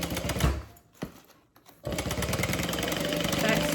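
A sewing machine back stitches the center seam of a handbag: a brief burst of stitching, a pause with a few clicks, then a longer steady mechanical whir that builds to the end, with a voice heard over it.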